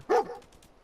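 Dogmeat, the dog in Fallout 4, lets out a single short bark up close, followed by a few faint trailing sounds.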